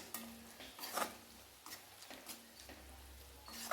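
Prawn garlic roast stirred in a pan: soft scraping and clinks of a spoon against metal, a few sharper taps among quieter stirring, close and fairly faint with a low sizzle beneath.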